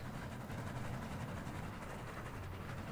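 A quiet, steady rolling rumble of a moving train in the Roblox game Dead Rails, continuous and low for a few seconds with no speech.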